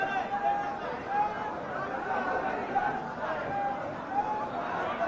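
Dense murmur of a large crowd gathered at an outdoor political rally, a steady babble of many voices at moderate distance with no single speaker standing out.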